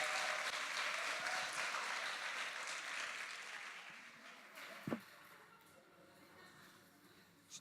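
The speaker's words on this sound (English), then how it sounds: "Keep clapping until they're all the way to the stage." Audience applause at a live talk event as the hosts walk onto the stage: steady dense clapping fades gradually over several seconds, ending with a single loud clap near the end.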